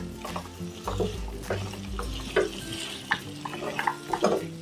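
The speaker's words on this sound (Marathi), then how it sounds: "आता आपण हे हलकेसे फ्राय केलेले बटाटा टाकूया आणि असं हलवून घेऊया" Lightly fried potatoes and peas being stirred in a pan, a steady frying sizzle under repeated scraping strokes of the spoon, close and moderately loud with no talking.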